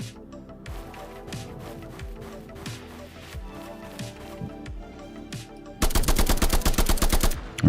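Gunfire in the video game Lurking in Fear: rapid bursts of shots over a rhythmic background music loop, ending in a loud sustained stream of automatic fire.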